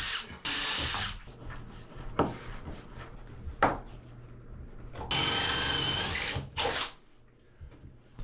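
A power drill cuts a pilot hole through wood inside the aft cabin of a wooden boat, giving bursts of high whining drilling separated by pauses, knocks and handling noises, all close by.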